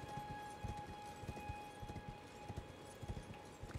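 Hoofbeats of a ridden horse in Elden Ring drum quickly and steadily throughout, fairly faint, over a quiet sustained tonal backdrop, with no speech.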